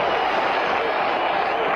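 A 15,000-strong stadium crowd at a football match makes a steady, dense roar that fills the whole stretch at an even level, with a commentator's voice underneath.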